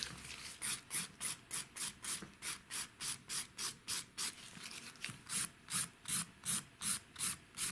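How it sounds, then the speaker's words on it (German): Nail file rasping across a gel nail in quick, even back-and-forth strokes, about two per second, close and clear with no talk. "Das befeile ich in diesem Schritt auch schon direkt."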